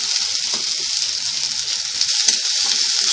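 Vegetables including capsicum, carrot, cabbage and spring onion greens sizzle and hiss steadily in a hot pan for Schezwan egg fried rice, a continuous bright frying sound with light stirring scrapes, no voices.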